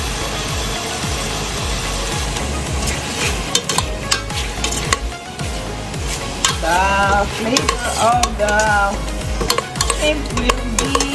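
Shrimp fry loudly in a pan for Filipino misua soup, a dense close sizzle broken by repeated scraping strokes of a utensil against the pan, with a few sharper clinks toward the end and no talking.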